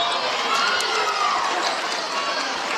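A crowd at a women's college volleyball match between Bluefield and UPIKE makes a dense, continuous wash of cheering and chatter, steady and loud throughout.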